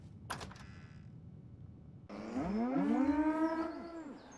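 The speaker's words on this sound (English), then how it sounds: "Oh my goodness, so many cows." Cows in the video game Fallout 4, where a brief sharp sound is followed by a single long, loud, close moo that swells and then fades.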